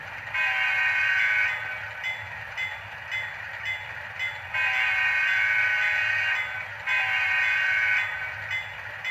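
An HO scale Dash 9 model diesel locomotive hums and whines as it starts moving backwards, with a buzzing motor tone that swells and dips in three bursts.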